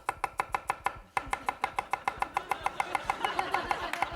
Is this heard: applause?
no